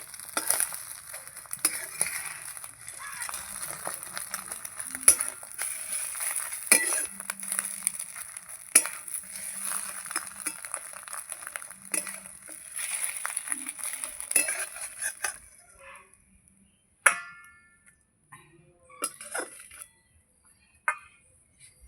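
A utensil clinks and scrapes against a pan while an omelette cooks, with a steady sizzle underneath and sharp metallic taps scattered throughout. The frying fades after about fifteen seconds, leaving a few isolated clinks at close range.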